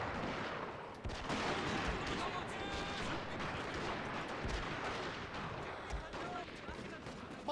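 Matchlock gunfire in a battle in the video game Shogun 2 Total War: dense, overlapping crackling volleys and booms that go on continuously at a distance, with a busy din and voices underneath.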